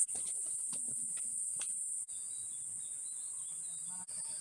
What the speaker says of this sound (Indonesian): bisa terdengar suara jangkrik.